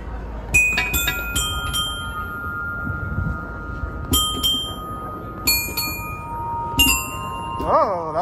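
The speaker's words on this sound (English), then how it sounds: "We really did think that this was a wind chime hidden somewhere." Clear ringing bell tones like a wind chime, heard in an outdoor public park in New York City at Christmas; several separate struck chimes ring out and sustain over soft ambient background with faint voices.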